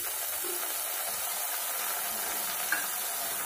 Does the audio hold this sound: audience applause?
no